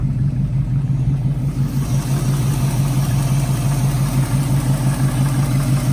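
A 1969 Ford Mustang Fastback with a 351 V8 and four-barrel carburettor idles steadily, a deep even rumbling burble close by with no voices.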